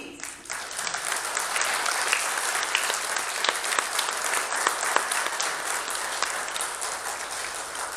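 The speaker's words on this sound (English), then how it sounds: "let's bring them up and give them a round of applause, please" An audience at a film festival screening applauds a panel coming on stage, steady dense clapping from a full room sustained for several seconds after a quick start.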